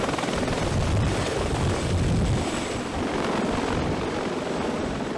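A Sikorsky heavy-lift helicopter operating at sea gives a loud, continuous rotor and engine roar with a steady rhythmic thrum, close and unbroken, with no voices.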